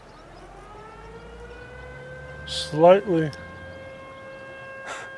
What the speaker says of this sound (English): And now there's a siren.